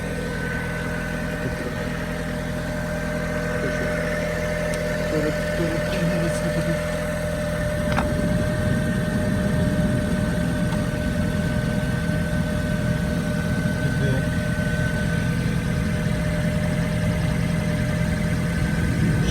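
A car engine idles steadily after starting during battery maintenance, a loud continuous mechanical hum that roughens and grows slightly louder about eight seconds in, with no talk over it.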